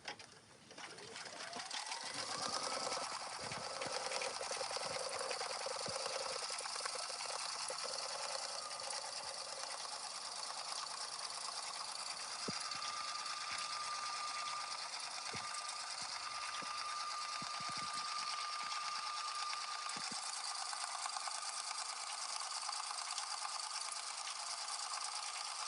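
A sewing machine stitching a cactus patch runs steadily at speed for the whole stretch, a continuous close whirring drone with faint rattling and no pauses.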